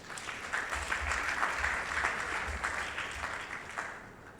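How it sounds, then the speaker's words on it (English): An audience at a technical energy symposium claps steadily in a dense, sustained round of applause, filling the room at moderate loudness without any voices over it. "Give yourself a round of applause."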